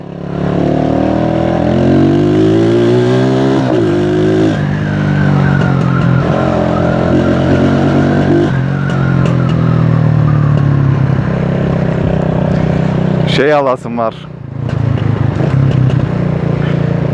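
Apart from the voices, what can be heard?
motorcycle engine revving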